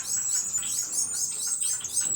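Cuban grassquits or melodious finches chirp continuously, a busy overlapping chorus of thin high tweets and trills close by, with no talking.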